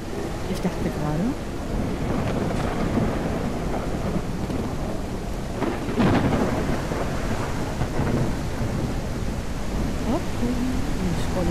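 Steady rain and rolling thunder from the Mist Survival video game run as a constant loud wash for about twelve seconds, with someone talking intermittently over the storm.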